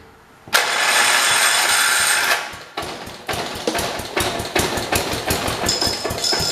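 Kohler engine in a 1968 112 lawn tractor cranks and catches with a loud broadband roar for about two seconds, then stumbles and keeps firing in uneven, sputtering bursts up close.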